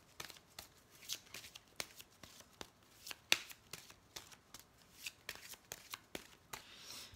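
Oracle cards are shuffled by hand for a love reading, a quiet, close series of crisp riffling flicks and slaps in an irregular rhythm, with no talk.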